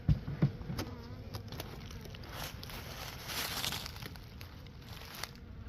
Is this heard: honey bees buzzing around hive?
yes